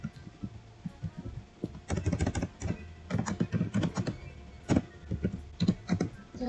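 Rapid, uneven keyboard typing on a computer while configuring an Apache web server, with dense clusters of close clicks and key presses that start sparse and then come in bursts, alone with no talk.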